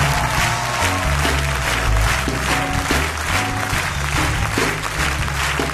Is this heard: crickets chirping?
no